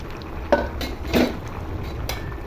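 A lid is lifted off a pot of rohu fish curry with eggplant, giving two brief metallic clinks about half a second apart over a low steady kitchen hiss.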